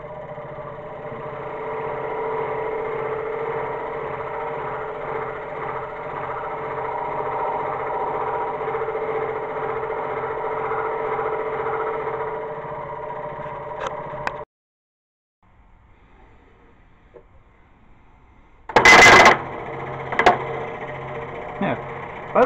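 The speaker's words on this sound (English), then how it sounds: "So cutting through over an inch of wood, albeit softwood, this makes a very clean, very precise cut." A scroll saw fitted with an open tooth blade cuts through over an inch of softwood, giving a steady buzzing, rattling motor drone that runs for about fourteen seconds and then stops abruptly. Brief clicks and thumps follow in near silence.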